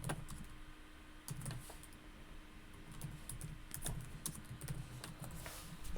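Computer keyboard keys clatter in irregular bursts of taps, close and fairly quiet, with a low steady hum in the background and no one speaking.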